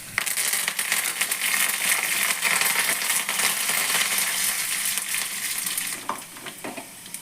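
Curry leaves and dried red chillies sizzle in hot oil for an Andhra-style spinach dal tempering: a dense, steady crackling hiss that stays loud and even, with a few sharper pops near the end and no talking.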